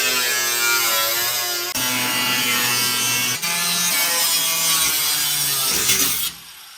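A saw cuts through the floor pan of a 1972 Dodge Challenger, a loud close whining buzz with slight pitch shifts, briefly pausing twice before stopping abruptly near the end.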